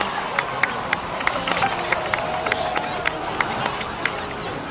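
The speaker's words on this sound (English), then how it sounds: "please give another round of applause for them" A video game crowd cheers and claps with scattered sharp claps over a steady murmur of voices, sustained and fairly loud; from Genshin Impact.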